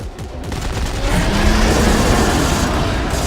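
Rapid gunfire during a co-op Dead Space 3 session, a dense continuous burst of shots with booming impacts, loud and sustained.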